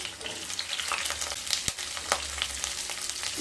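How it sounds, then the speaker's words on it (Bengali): A clove of garlic and two medium onions hit hot oil for chilli paneer, a continuous crackling sizzle with stirring clatter and one sharp knock midway, close up and with no voices. "এবার ওই তেলের মধ্যে এক কোয়া রসুন দিয়ে দেব সাথে দিয়ে দেব দুটো মিডিয়াম সাইজে কেটে রাখা পেঁয়াজ"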